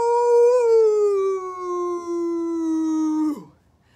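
A human voice imitates a wolf howl, holding one long, smooth howl that slowly falls in pitch and then drops off abruptly.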